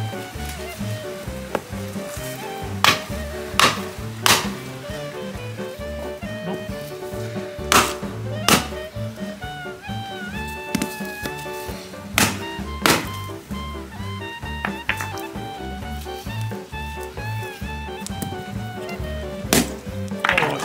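A coconut is struck open with a series of sharp, irregular whacks and thunks, about a dozen hits spread over the span, heard over a steady tonal background.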